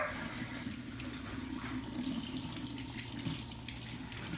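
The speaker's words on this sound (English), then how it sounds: "turn the sink on and kind of gauge the temperature" A sink faucet runs water through a Python hose for an aquarium water change, a steady close rushing flow that stays even throughout, with no talking.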